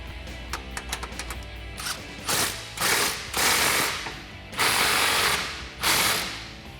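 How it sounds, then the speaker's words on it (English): Rapid ratcheting clicks in short bursts, then several louder, longer grinding passes of a 15mm socket wrench tightening an exhaust clamp on a RAM 1500 pickup, close up with no talking. "we can loosely secure that clamp with a 15mm socket until our final tightening"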